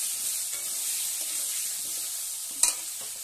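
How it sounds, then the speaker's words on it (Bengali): Potatoes fry with salt and turmeric in a pan, making a continuous close hiss and sizzle, with a brief louder spatter or scrape near the end; no one talks. "এবার আমি ভালো করে একটু ভেজে নিচ্ছি আলুগুলোকে।"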